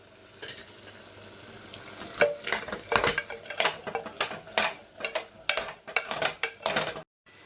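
Chicken legs frying in a masala with garam masala powder, stirred with a spoon in a pan: a rhythmic series of close scraping strokes over a soft sizzle, steadily repeated and fairly loud, with no voices.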